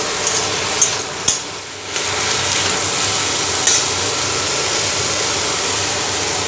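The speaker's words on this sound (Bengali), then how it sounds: "ঠিক আছে, নেড়ে নেব।" Food sizzles steadily in a hot frying pan as it is stirred, with a few sharp scraping clicks of the spatula against the pan early on.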